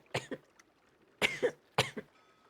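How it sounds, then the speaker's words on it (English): Three harsh, wet coughs from a person spitting up water in a role-play video game, each burst a double hack separated by short pauses, close and fairly loud with no speech. "There you go. Cough it up."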